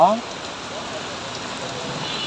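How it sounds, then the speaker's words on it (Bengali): Heavy rain pouring steadily over a city street after falling all night, a dense close hiss with a brief voice at the very start. "বৃষ্টি আর বৃষ্টি সেই যে রাত থেকে শুরু হয়েছে বৃষ্টি এখনো অজোর ধারে হচ্ছে"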